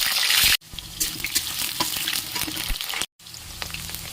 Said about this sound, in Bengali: প্রথমে আমি আলুগুলোকে ভেজে নেব।